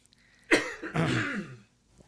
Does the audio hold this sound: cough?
yes